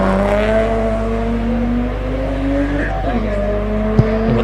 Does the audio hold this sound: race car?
yes